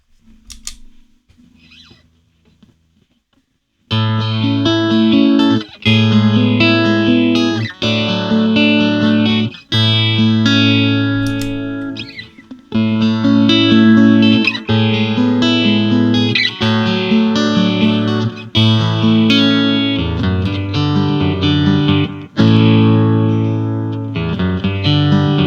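Electric guitar chords and sustained notes played through a Donner Third Man Hardware Triple Threat effects pedal, with echoing swells and shimmering modulation after a few seconds of near silence.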